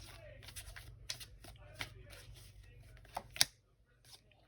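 Tarot cards are shuffled for a reading in a series of soft, irregular riffles and snaps, closing with a sharper card slap, under a quiet murmur of talk.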